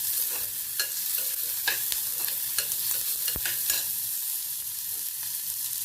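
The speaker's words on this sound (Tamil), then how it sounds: "பச்சை மிளகாவையும் போட்டு நம்ம நல்லா வதக்கிடலாம்." Onions and green chilies sizzle and fry in a pan while a utensil scrapes and stirs them in scattered strokes, with no one speaking.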